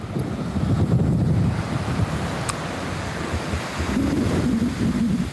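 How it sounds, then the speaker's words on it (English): Ocean waves rolling onto a beach in Japan, a steady loud wash of surf with wind buffeting the microphone throughout, swelling slightly near the end. "We at the beach today."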